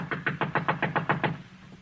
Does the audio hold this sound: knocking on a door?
yes